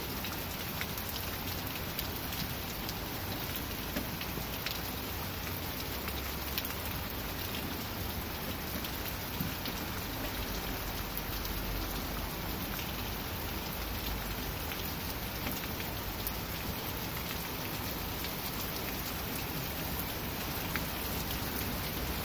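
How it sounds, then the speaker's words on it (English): Heavy rain pours down in a severe thunderstorm on a hot day, a dense, steady roar of drops hitting surfaces that stays loud and even throughout with no voices. "This rain is coming down more intense now."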